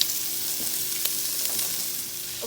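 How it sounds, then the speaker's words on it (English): Sesame seeds toast in a dry pan over low heat, giving a soft, even crackling hiss with faint light taps, close and unbroken. "I'm going to put them evenly in a dry pan, and I'm going to put the temperature on low"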